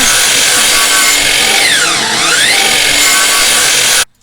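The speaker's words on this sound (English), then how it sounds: "We had a saw. There you go." A power saw cuts through wood with a loud, continuous whine that dips in pitch mid-cut, then stops abruptly.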